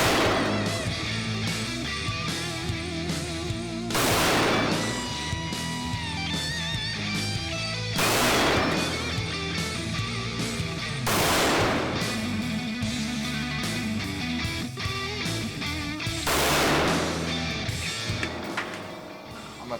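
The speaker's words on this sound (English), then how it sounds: "We'll shoot the Ruger on the left" A Ruger 57 pistol fired at an outdoor range, with several sharp, loud reports spaced a few seconds apart over a steady background of other sound.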